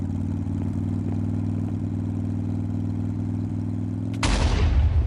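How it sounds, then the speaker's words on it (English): Steady engine drone from a motorcycle in the Minecraft video game, running evenly for about four seconds before a sudden loud explosion bursts in and rumbles on to the end. "Why did my motorcycle suddenly catch fire and there was an explosion?"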